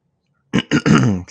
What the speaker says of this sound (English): Clearing my throat there.